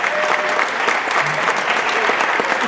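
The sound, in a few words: audience applause for the radio volunteers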